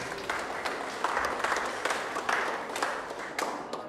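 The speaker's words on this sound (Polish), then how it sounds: "Wielkie brawa!" Steady applause from an audience at a school Miss contest rolls on without a break, moderately loud, with some claps standing out from the dense background.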